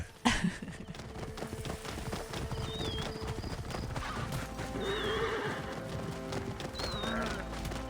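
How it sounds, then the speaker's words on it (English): A horse in the Assassin's Creed Origins video game neighs and whinnies several times over steady clip-clopping hooves, with faint game ambience behind it. "We have a Charlie horse. Charlie horse"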